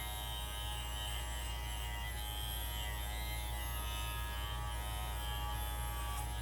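An Andis Masters hair clipper fitted with a Phatmaster blade buzzes steadily while cutting hair, a constant close motor hum with no talk.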